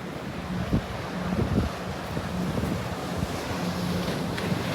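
Surf rolls in at Boynton Inlet as a steady broadband wash of ocean waves, with wind buffeting the microphone and a low boat engine hum underneath, no talking.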